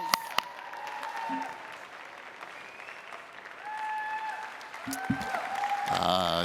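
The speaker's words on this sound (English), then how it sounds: "stand up and give him a round of applause?" A university event audience applauds steadily, a dense patter of many hands clapping, with a few voices and whoops rising over it and a clearer voice near the end.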